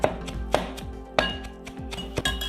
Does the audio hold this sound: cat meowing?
no